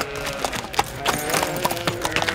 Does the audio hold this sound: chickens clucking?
no